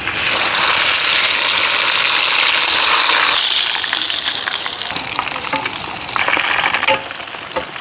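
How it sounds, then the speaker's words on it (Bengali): Marinated chicken frying in hot oil in a home kitchen, a loud continuous sizzle close by that settles into a softer bubbling hiss with light stirring clatter toward the end. "তেল গরম হয়ে গেছে, এখন মুরগিটা দিয়ে দিই।"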